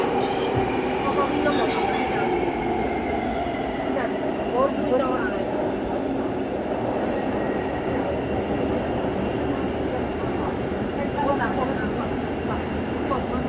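Steady rumble and rattle of an MRT metro train in motion in Taiwan, a constant low roar with faint squeals and clatter, heard from inside the carriage.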